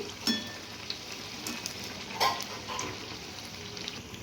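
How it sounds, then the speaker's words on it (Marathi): Potato bhaji (batata bhaji) frying and being flipped in hot oil, a steady soft sizzle broken by a few sharp clinks and splashes as the fritters are turned. "आता आपण भजे पलटी मारून घेऊया तुम्ही पाहू शकता एकदम टम्म फुगलेली आहेत भजी"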